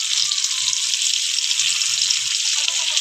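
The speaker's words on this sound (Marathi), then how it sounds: "आता आपण कांदा टाकून घेऊया." Onion fries in oil on a griddle with a loud, steady hiss, plus faint low bubbling underneath.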